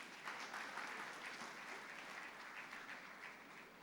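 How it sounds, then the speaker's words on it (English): A summit audience at the Lagos International Climate Change Summit gives a sustained round of applause, a steady dense wash of clapping that holds at even loudness throughout, faint and somewhat distant. "Can we please give him another round of applause?"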